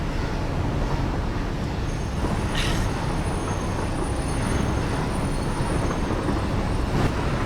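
A freight train in the video game Satisfactory rolls steadily along its rails, a continuous loud rumble and clatter of wheels that carries on unbroken, with a brief high squeal partway through.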